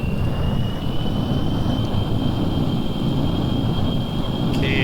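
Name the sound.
SR-71 Blackbird jet taking off, Kerbal Space Program video game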